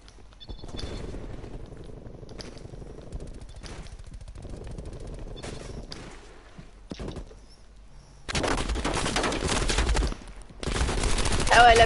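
Call of Duty: Cold War gunfire, with scattered short bursts and single shots in the first part, then two long dense bursts of loud automatic fire near the end, with faint talk in the background.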